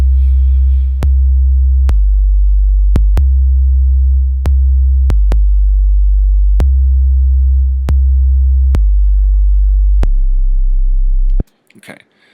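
Tuned trap 808 sub bass loop played from an Ableton sampler, loud deep sustained bass notes changing pitch with sharp clicky attacks at irregular intervals, soloed without other instruments, ending in a brief silence and faint noise.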